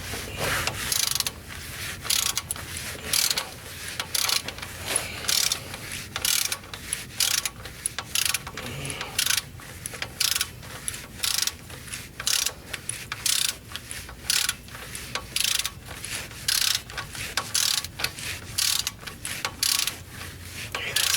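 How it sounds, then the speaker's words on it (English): A torque wrench ratchets steadily on valve cover bolts of a Corvair engine with a cork rubber gasket, producing a continuous run of close, crisp clicks in quick regular strokes with short pauses between them. "Just use a torque wrench for this."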